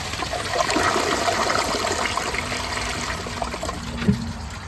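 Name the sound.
Clovis Goods one-piece matte black dual flush toilet flushing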